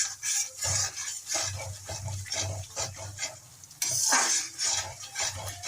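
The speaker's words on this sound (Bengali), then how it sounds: "এখন এই মশলাটাকে আবার আমি 2-3 মিনিটের মতো কষবো" Peanut spice paste being stir-fried in a pan for malai cauliflower, with a spatula scraping and clinking against the metal in an uneven rhythm over a steady sizzle, close and fairly loud with no talking.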